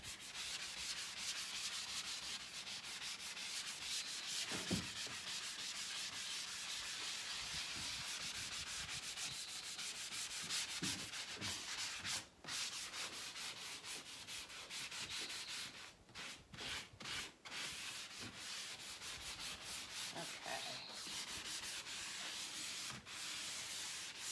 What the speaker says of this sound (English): I'm going to go over the whole entire piece with a 400 grit or more sanding sponge